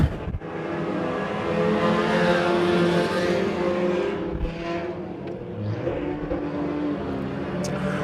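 Race cars roar around a short oval track, engines droning loud and steady as they speed through the turns, with a commentator's voice faintly underneath.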